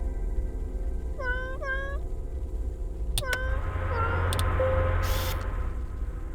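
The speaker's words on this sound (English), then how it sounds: "you get extra meows from the Robo Kitties" Robo Kitties in a video game give repeated synthetic meows, a pair of short rising calls followed by sharper electronic mews over a steady low game hum, with no voices.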